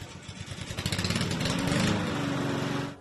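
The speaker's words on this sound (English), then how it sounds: "Kenneth Hodges is mowing with a mission." A lawn mower engine runs steadily while mowing in Central Texas, a loud buzzing drone with a rhythmic pulsing that swells and holds close by, no talk over it.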